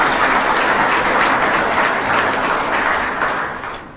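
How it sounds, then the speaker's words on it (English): Applause fills a board meeting room, a dense wash of many hands clapping steadily and loudly before tapering off toward the end. "So a round of applause for our chair, Lonnie Watson."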